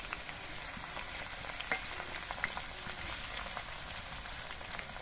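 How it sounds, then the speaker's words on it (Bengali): Banana flower pieces fry in a little oil over low heat, giving a steady, close, bright sizzle with scattered small pops and crackles throughout, with no talking. "অল্প করে করে দিয়ে কিন্তু ভাজতে হবে। আর এই সময় কিন্তু জালটা আস্তে দিতে হবে।"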